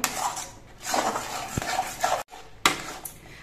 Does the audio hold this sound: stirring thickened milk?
yes